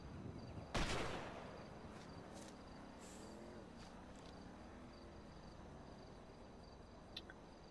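A single loud gunshot cracks out near the start in a GTA 5 video game, then fades into a steady low background hum, with a couple of faint clicks later.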